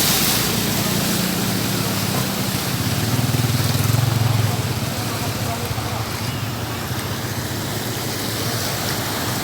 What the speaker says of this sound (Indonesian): Dia sudah mulai turun air hujan lagi situasinya.